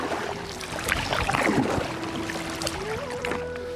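A boat is paddled toward an erupting volcano, with steady watery sloshing and paddle strokes over a low continuous hum, close and moderately loud.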